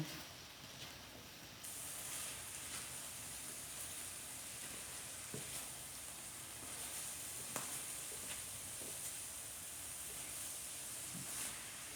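Minced garlic is stirred in a skillet for a green beans and turkey dish, with a soft, steady sizzle and occasional faint scrapes and clicks from the spoon.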